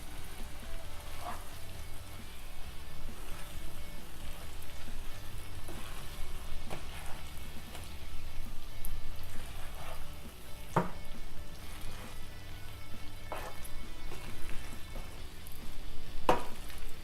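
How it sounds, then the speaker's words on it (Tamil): Chicken pieces being stirred and mixed with masala in a pan for a South Indian chicken chops gravy, with a steady sizzling fry and occasional scraping stirs throughout, close and moderately loud with no talking. "இப்போ இந்த சிக்கனை மசாலாவோடு சேர்த்து நல்லா மிக்ஸ் பண்ணி விட்டுக்கலாம்."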